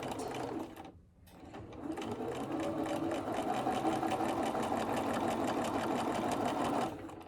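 A sewing machine back stitching over a pleat of a fabric mask, running steadily and close up after a brief pause near the start.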